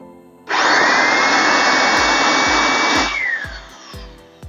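An Ingco 400W electric air blower switches on and runs as a vacuum cleaner, a loud steady motor whine with rushing airflow, held for about two and a half seconds before winding down, with faint knocks and handling clicks near the end.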